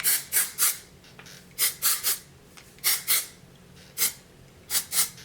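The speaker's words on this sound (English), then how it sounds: "spray your texture spray" Short hissing bursts of an aerosol texture spray sprayed on hair come in quick groups of two or three, close and fairly loud, with brief pauses between them.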